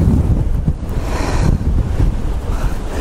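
Black Sea waves at a winter beach in Katsiveli crash and splash continuously while strong wind buffets the microphone, a loud, rushing roar of surf and spray close by.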